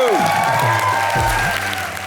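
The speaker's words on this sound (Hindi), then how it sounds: "अपनी पहली ही फिल्म कंपनी में अपनी एक्टिंग का लोहा मनवाने वाले विवेक के लिए जोरदार तालियां।" Studio audience applause on a comedy show stage, a steady wash of clapping that fills the whole short stretch, with some tonal talk or music layered underneath.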